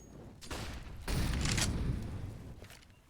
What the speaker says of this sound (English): A lot of gunshots being fired here at A site.